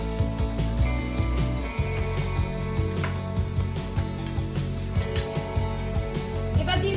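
A utensil stirs vegetables for Bengali shukto in a pan, giving repeated clinks and scrapes over a steady sizzle of frying, close by, with no talking.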